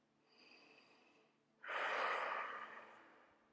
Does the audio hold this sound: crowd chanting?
no